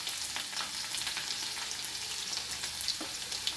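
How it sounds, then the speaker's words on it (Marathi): Garlic sautéing in oil in a pan for a bhendi (okra) fry, a steady dense sizzle and crackle with occasional stirring scrapes, close and continuous throughout. "लसूण चांगला परतून घ्यायचा आहे"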